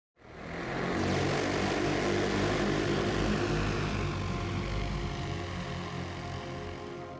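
A propeller aircraft on a test flight, its engine droning loudly and steadily after a quick rise, holding a thick, constant roar that eases slightly toward the end.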